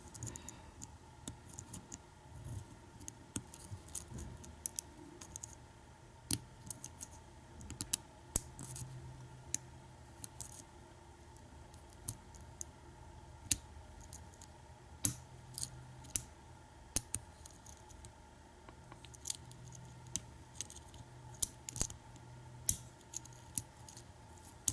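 Small, sharp metallic clicks and scratches from a tension wrench and pick working a lock, scattered irregularly over a quiet hum, close and faint.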